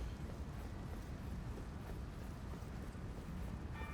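Torrent, the spectral steed in the Elden Ring video game, gallops with a steady clip-clop of hooves under a dense, continuous wash of in-game wind and ambient noise, with no voices present.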